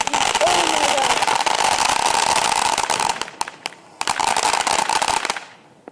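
July 4th fireworks go off in a loud, dense barrage of rapid crackling pops like a firecracker string. The barrage thins to scattered bangs near the end and then fades out.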